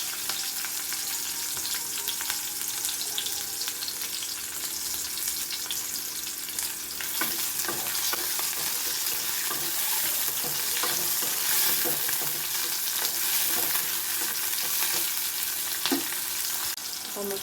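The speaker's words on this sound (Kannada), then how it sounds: "ಟೊಮೆಟೊ ಫ್ರೈ ಆಗಿದೆ." A small tomato frying in a pan: a continuous bright sizzle and crackle, close and even, with occasional stirring scrapes and no talking.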